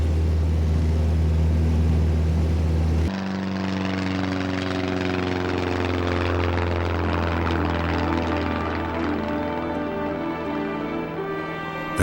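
A tow plane's propeller engine drones loud and close with a steady harmonic hum as it pulls a glider down the runway, the tone shifting and building slightly as it accelerates, with no talk.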